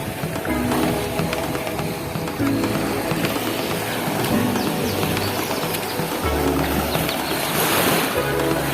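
Rough surf at Puka Beach on Boracay, steady crashing and washing waves with repeated low surges, fairly close and continuous, with faint scattered high chirps in the background.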